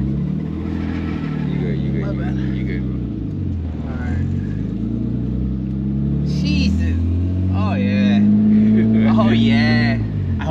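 A BMW E30 wagon pulls away with a steady low engine rumble that rises a little as it moves off, heard from inside the car while people talk over it throughout.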